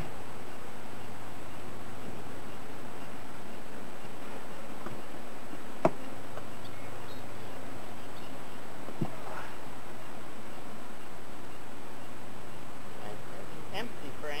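Honey bees buzz steadily around an opened hive during an inspection, a dense continuous hum filling the background at even loudness, with an occasional faint tap or click of frames and no talk.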